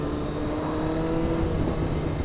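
A motorcycle engine revs hard under a big handful of throttle during an attempted power wheelie, a loud, steady, close drone holding for a couple of seconds with no talk.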